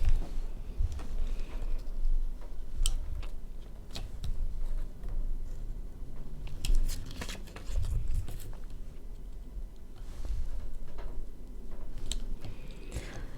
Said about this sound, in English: I'm going to take my blade and cut that out